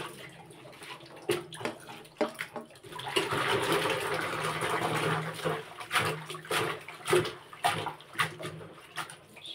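Spinach leaves sloshed and rinsed in water, close splashing and swishing with occasional louder splashes and drips, fairly quiet overall.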